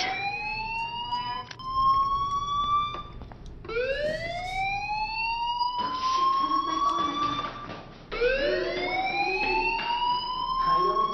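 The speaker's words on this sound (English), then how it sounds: "Hey, do you hear that fire alarm? That means you should be outside." A fire alarm in the video game Life is Strange wails in repeated rising electronic sweeps, loud and continuous, each swoop climbing sharply and then holding, with no talking.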